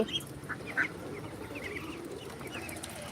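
Ducks and ducklings on a farm quack in a few short, faint calls at the start, then fade into steady low background noise.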